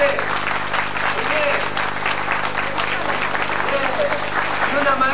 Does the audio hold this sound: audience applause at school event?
yes